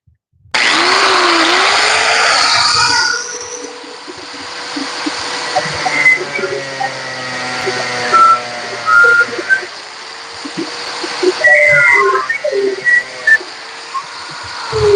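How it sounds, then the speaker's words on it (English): A cheap handheld grinder cuts into a plastic car taillight being modded for LEDs. It starts with a loud, steady high whine, then runs on unevenly with fluctuating pitch and bursts of cutting noise. "Come on, grinder."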